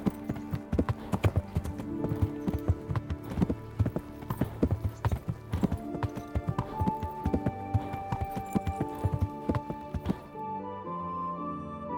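Horse hooves clip-clop steadily in the medieval game Kingdom Come: Deliverance, a close, rhythmic trot over a busy game soundscape of music and ambience, the hoofbeats stopping near the end as the horse halts.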